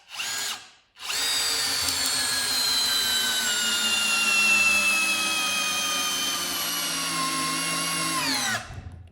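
A Bosch GSR 12V-300FC cordless drill/driver at speed setting 1 drives a screw into wood, giving a steady loud motor whine that slowly drops in pitch as the load builds, then cuts off.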